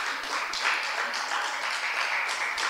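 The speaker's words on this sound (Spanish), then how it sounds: "Denle un aplauso al Señor." A church congregation claps in praise during a Spanish-language worship service, a moderate, even wash of many hands sustained under the room's ambience.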